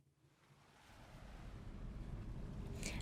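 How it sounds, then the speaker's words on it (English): Ambient ocean waves wash in a steady, swelling roar that grows slightly louder over a few seconds, with a breezy hiss and no voices. "You might hear the subtle sounds of meditative music or ocean"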